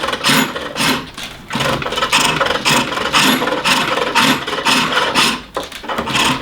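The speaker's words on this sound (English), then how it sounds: "I will just turn this way until I hear my smooth cut." Rhythmic rasping scrape of a gouge cutting spinning wood on a spring-pole lathe, smoothing an irregular surface, in loud close bursts that rise and fall with the lathe's back-and-forth motion.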